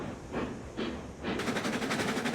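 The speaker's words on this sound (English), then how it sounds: "So let's get this train rolling now" A train in the RAILROADS Online railroad game pulls away, with bursts of rolling rumble and noise that swell into a steady, loud, rhythmic rail clatter once it gets moving.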